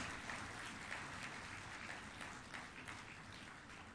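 An audience at a legal mediation conference's valedictory session claps in a soft, steady wash that sounds distant and faint from start to finish.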